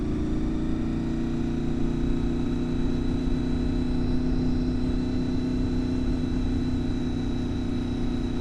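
A motorcycle pulls away from a stop as the clutch is let out during low-speed riding practice, its engine a steady, fairly loud mid-pitched drone that holds on without a break.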